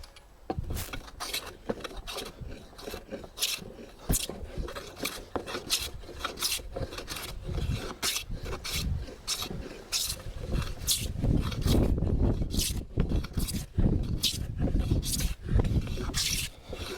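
Hand plane shaving the surfaces of a wooden workbench leg, a steady run of close, rasping strokes in a quick rhythm, with light knocks between passes and growing louder toward the end.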